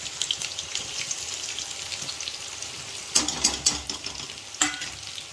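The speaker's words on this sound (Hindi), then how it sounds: "और अब मैं बना रही हूँ पोहा" Poha cooks in a pan with a low, continuous sizzle, while a spoon makes several close scraping strokes as it is stirred, and no one speaks.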